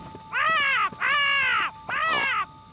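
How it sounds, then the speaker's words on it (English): A crow caws three times in quick succession, loud, harsh and drawn-out, close by over quiet background. "Oh, it's just a crow."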